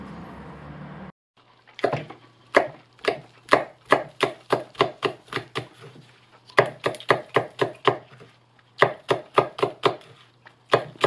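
A knife chopping fresh fish on a board, a rapid run of sharp, evenly spaced thuds in two bursts separated by a short pause, close and crisp over a faint background hum with no talking.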